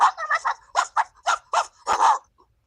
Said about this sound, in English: You ever seen that meme where two dogs are barking at each other and there's a divider in the middle?